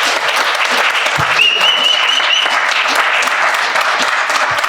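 Steady, full crowd applause at a Hotep Nation Weekend 2021 fireside chat, dense clapping holding at an even level throughout, with a brief whistle cutting through midway.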